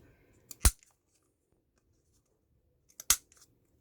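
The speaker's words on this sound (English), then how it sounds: "I'm just going to go ahead and I'm just going to corner around the edges on this one as well" Corner rounder punch clipping the corners of a paper piece for a lift-and-reveal box, two sharp, crisp snaps about two and a half seconds apart, close and clear against a quiet background.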